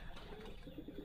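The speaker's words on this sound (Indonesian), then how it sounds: "merpati stokan terbaru dari sangkarnya Mas Restu ya" Newly arrived stokan racing pigeons in their loft give soft, low cooing, a few brief murmured coos close by in a quiet space.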